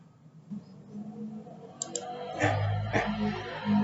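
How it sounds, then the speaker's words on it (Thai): A computer mouse clicks a few times at close range to save a download, the crisp clicks mixed with low desk handling sounds and a soft hum, with no voices. "คลิกเซฟเพื่อดาวน์โหลดไฟล์ตัวนี้ลงมานะครับ"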